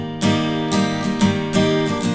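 Acoustic guitar strummed at full tempo with a full strumming pattern, ringing chords struck in steady repeated strokes about every half second, close and clear with no voice.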